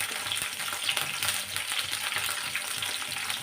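Fenugreek seeds fry in a pan for a tomato pachadi, giving a dense, continuous crackling sizzle at close range with faint stirring and no voices.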